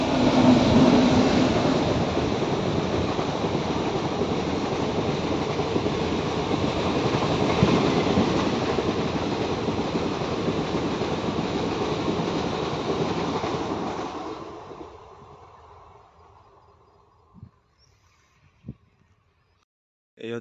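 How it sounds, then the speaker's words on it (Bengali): A train rumbles and clatters along a raised railway line overhead, loud and steady for about fourteen seconds, then fades quickly into quiet wind with a few faint knocks. "তো ওপর দিয়ে ট্রেন যাচ্ছে।"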